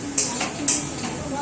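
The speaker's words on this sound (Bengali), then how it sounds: "মশলাটা কষানো হচ্ছে।" Spice paste sizzles as it is fried and stirred in a pan, with a couple of sharp metallic scrapes from the spoon over a steady frying hiss.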